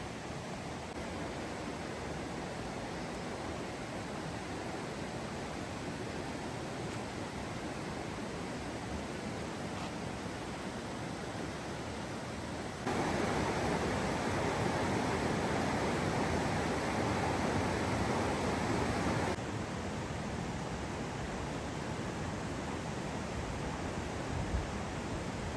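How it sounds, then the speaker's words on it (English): A river flows near Balmoral Castle in the Scottish Highlands, a steady broadband rush of water close by that grows louder for several seconds in the middle before settling back to its earlier level. "Can you hear the sound of the river?"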